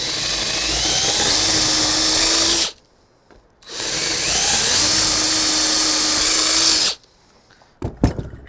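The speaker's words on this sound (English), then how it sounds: "Drill your holes." A power drill bores bolt holes for a barn door bracket on a post and beam garden barn, two long whining bursts of drilling separated by a short pause, close and loud, followed by a few light clicks.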